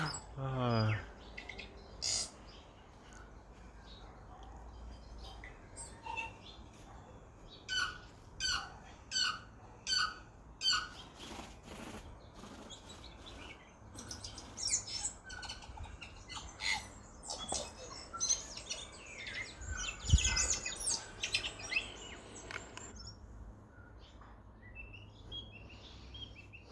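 Tui birds calling in a garden, scattered bursts of varied chirps, clicks and squeaky notes coming in clusters over a quiet background, fairly faint and distant, with some talking mixed in.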